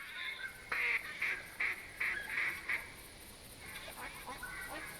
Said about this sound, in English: Holy crap, that's a lot of ducks.